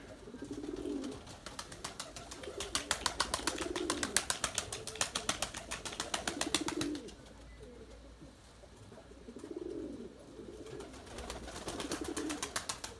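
Pigeons of the Erzurum white breed coo in soft repeated phrases, several rounds spaced a few seconds apart, over a steady bed of chirping and rustling.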